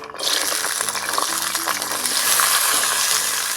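Vegetables frying in hot oil in a wok make a continuous crackling sizzle with a light watery hiss and faint stirring, steady and close throughout.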